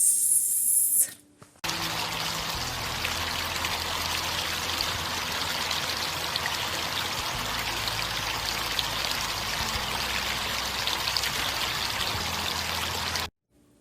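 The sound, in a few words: babbling spring stream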